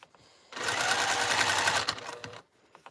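A sewing machine runs steadily for about two seconds as it stitches fabric down in place, loud and close, then slows and stops, with a few faint handling clicks after.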